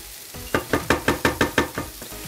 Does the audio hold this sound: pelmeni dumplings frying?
yes